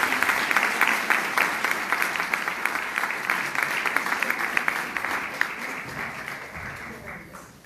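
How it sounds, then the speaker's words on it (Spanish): Audience applause at an inaugural lecture: dense, steady clapping from a sizeable crowd with crisp individual claps standing out, holding strong for several seconds before gradually thinning and fading toward the end. "Y un aplauso."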